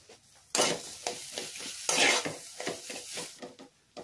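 Mashed potato being stirred in a pan with turmeric, chilli powder, salt, roasted spices and raisins, giving repeated scraping strokes and a soft sizzle, close and fairly quiet.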